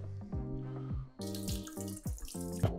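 Tap water running into a bowl while rinsing rice for sushi, a splashing gurgling flow with sloshing bursts as the water is swirled and poured, close and alone without talk.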